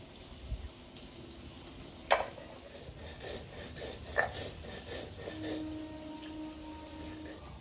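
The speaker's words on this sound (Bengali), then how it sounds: "প্রথমে বেটে নেব। এক টুকরো আদা নিয়েছি, দেখো আদাটাকে" Raw ginger is ground into a paste on a grinding stone for a pointed gourd and prawn curry, giving soft rasping rubs with a couple of sharper scrapes, quiet and close, with no talking.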